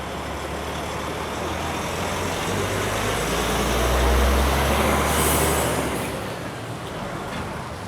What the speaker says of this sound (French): je vais profiter justement de la venue d'un camion qui vient de collecter du lait pour vous présenter la réception du lait dans l'atelier